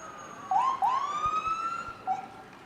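An ambulance siren wails nearby at a fall fair parade, rising and sweeping through a couple of yelping cycles over a low rumble of traffic.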